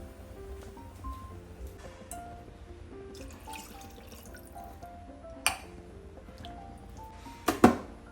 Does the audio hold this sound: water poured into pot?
yes